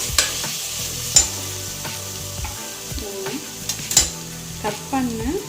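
Onions fry in a pan for mushroom biryani, a soft sizzle under frequent stirring and scraping strokes, with a few sharper clinks of the spatula against the pan.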